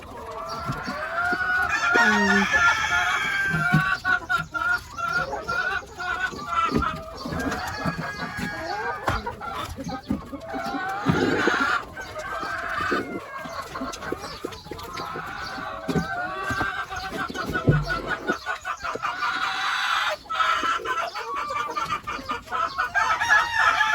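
Chickens cluck and chatter continuously on a small farm, with a rooster crowing loudly several times over the flock, close and busy throughout.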